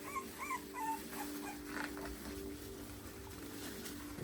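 Puppies whimper and yip in high, wavering cries during the first two seconds, close by, over a steady mechanical hum that continues after the cries fade.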